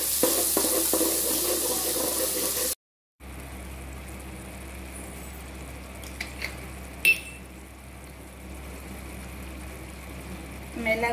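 Finely chopped tomato sizzles in hot oil with onions and ginger-garlic paste, a continuous frying hiss with a brief break and a few light scraping clinks of stirring.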